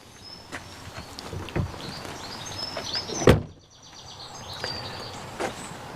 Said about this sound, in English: We'll just close the doors.